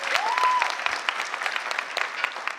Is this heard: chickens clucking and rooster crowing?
no